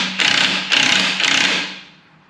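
A loud, close rattling of a pneumatic impact tool comes in three bursts as it breaks loose a 24 mm lower ball joint nut on a Chevy/GMC truck, then fades away.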